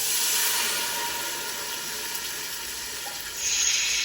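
Vodka poured into a hot pan while making vodka sauce for chicken parm, a steady close hiss and rushing sizzle that holds throughout and swells louder near the end.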